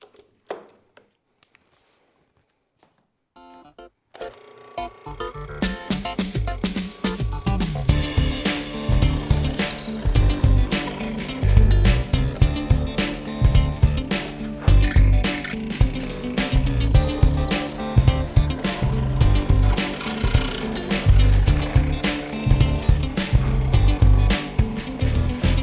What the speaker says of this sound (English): and then I cut my mortises.